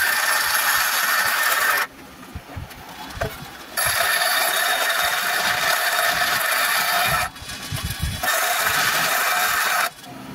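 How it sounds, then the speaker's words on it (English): A grinder rough-shapes a steel blade for a replica of the Nail sword from Hollow Knight, roaring in three long, loud bursts separated by short pauses. "next up we're going to do some grinding on this to get into a rough shape."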